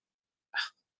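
A single short hiccup, quick and fairly faint, standing alone in an otherwise silent moment.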